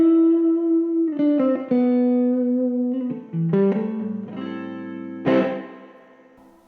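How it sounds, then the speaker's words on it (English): An Ibanez JSM20 semi-hollow electric guitar on its coil-split middle pickup setting plays clear sustained notes and short phrases, bright and close with a touch of effect, no talking. "Middle, which is coil split, sounds like this."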